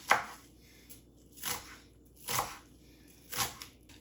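A knife chops onions on a board in a home kitchen, four separate chops spaced about a second apart, close and fairly faint, with no talking.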